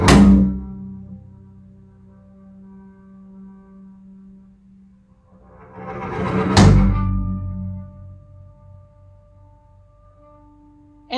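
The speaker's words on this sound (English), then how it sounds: "are you just talking about like a Bartok pitch just on an open string" Two loud plucked open-string hits, Bartók snap pizzicato style, each a sharp thump followed by a long ringing decay, the second a few seconds after the first, in a quiet room.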